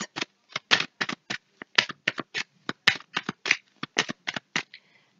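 Playing cards riffled and shuffled for a tarot-style card reading, a quick run of crisp, evenly spaced flicks and riffles, close and clear, with no voices.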